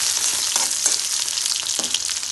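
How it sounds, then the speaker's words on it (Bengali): Chopped onion fries with cumin, cinnamon, cardamom and cloves in oil for a Bangladeshi duck curry, a close bright sizzle with a few quick stirring scrapes over a couple of seconds. "আর এখন দিয়ে দিব হচ্ছে পেঁয়াজ কুচি, আর এটাকে সামান্য নেড়ে চেড়ে দিলাম"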